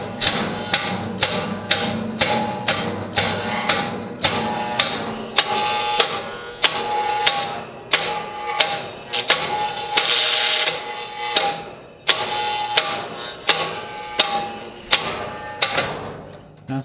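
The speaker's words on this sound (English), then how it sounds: "That's the solenoid" Solenoid clicking inside an FS&S Thunderbolt 1003 model boat, a series of sharp, regular mechanical clicks at close range, with a brief louder burst of hiss near the middle.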